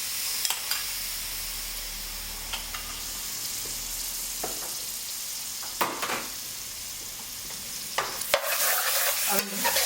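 Lamb cooking with spices in a pan over low gas gives a soft, steady sizzle, broken by occasional scraping and stirring knocks of a spoon against the pan.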